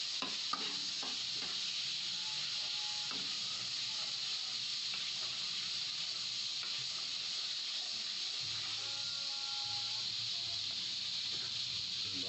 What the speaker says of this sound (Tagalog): Ilagay na muna natin ang ating margarine.